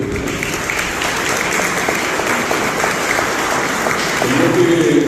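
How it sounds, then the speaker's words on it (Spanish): Audience applause at a school event in Guarambaré, Paraguay, a steady wash of clapping from a crowd throughout, with a voice rising near the end. "Un aplauso también para todos ustedes."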